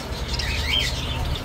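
Lovebirds chirping and squawking at an outdoor bird market in Baghdad, a cluster of high, scratchy calls over a low rumble of market background noise.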